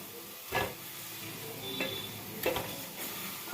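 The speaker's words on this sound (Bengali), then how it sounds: "কড়াইটা আমি গ্যাসের সিমে বসিয়ে কড়াইটাকে গরম করে নিয়ে ওর মধ্যে সেদ্ধ করা ডিমগুলো দিয়ে দিচ্ছি" Boiled eggs dropped into a heated nonstick pan on a gas stove, landing with a few soft clunks and a light, patchy sizzle, close and fairly quiet.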